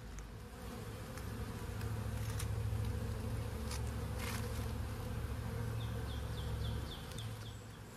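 A dense, steady hum of honey bees buzzing around hives, close and constant, with a few individual insects droning nearer now and then.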